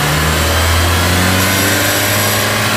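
A Nissan X-Trail T30 engine runs loud and steady under the hood, its drone mixed with a faint clicking that may come from a tensioner or alternator pulley, close and with no talk.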